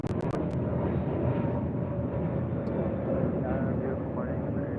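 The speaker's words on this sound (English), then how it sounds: "A321 Neo with Spirit now taking off." Spirit Airlines Airbus A321neo taking off at LAX, a broad, continuous jet roar with rumbling low end, steady and fairly loud across the whole stretch, with a few brief clicks at the start.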